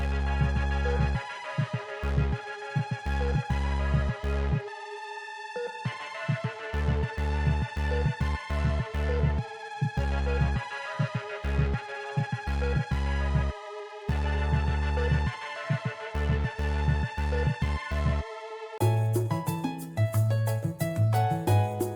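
A looping electronic melody plays in repeated bright phrases over deep bass pulses, with brief gaps between sections and a denser texture near the end.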